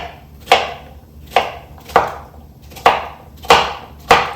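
A knife chops zucchini on a cutting board, six sharp, evenly spaced thuds roughly every seven tenths of a second, close and clear with no talking.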